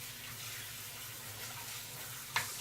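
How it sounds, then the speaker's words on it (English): Tap water runs over mixed berries being rinsed in a home kitchen, a faint, steady hiss of flowing water that ends in a brief louder splash or clatter. "Let me rinse these real quick."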